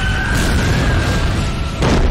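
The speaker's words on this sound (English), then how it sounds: "They seriously shot down Santa" Cartoon weapons fire and explode in a Christmas special, a loud sustained booming blast with a thin whistling tone over it, then a second heavy burst near the end.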